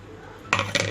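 A spoon clinks twice against a dish while grated coconut, cardamom, fennel and turmeric are mixed for a sweet Konkani ghawna, with two quick, close metallic taps after a quiet moment.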